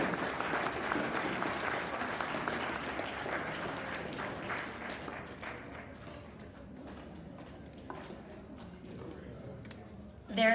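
Audience at a dude ranch association history presentation applauding, a broad crowd clatter that slowly thins into scattered claps, with a voice speaking over the tail.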